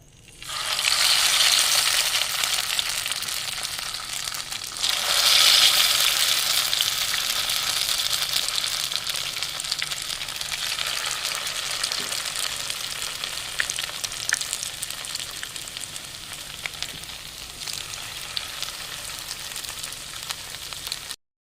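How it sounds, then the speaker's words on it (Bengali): Egg piyaju fritters fry in hot oil in a wok, a loud, steady close-up sizzle that surges when more batter goes in, then settles into a constant hiss with faint crackles. "কড়াইতে তেল বসিয়ে দিয়েছি, তেলটা গরম হয়ে গেছে। এবার এগুলোকে ভেজে নেব।"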